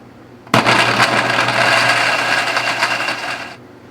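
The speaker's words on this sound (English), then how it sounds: "Put all of this in a blender and off we go." A blender whirs loudly and steadily for about three seconds as it purées sauce vierge ingredients, including shallot, then cuts off abruptly.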